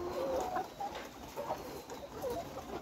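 Nourish layer hens cluck softly at a poultry farm, a few short calls rising over a steady background hum, fairly faint and without talk.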